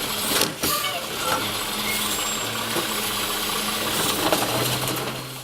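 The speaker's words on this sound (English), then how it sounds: "It's a garbage truck. And here comes one now." A garbage truck approaching, with a diesel engine droning and whining, clanks and mechanical rattles over the steady hum, gradually building.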